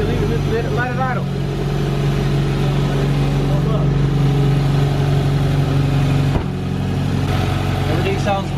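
A Subaru engine idles steadily after a front mount intercooler install, a constant low rumble held close, with people talking over it briefly near the start and a sharp click partway through.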